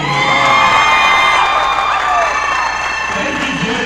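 Crowd at a youth hockey team's senior night celebration applauds and cheers loudly, with whoops and children's shouts layered over steady clapping throughout.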